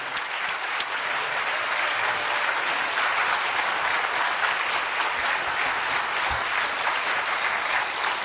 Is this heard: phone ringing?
no